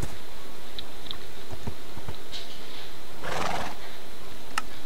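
A horse in Minecraft's WynnCraft server gives a few short neighs and snorts over a faint, steady background hum, with sparse hoof clops and a brighter burst in the middle.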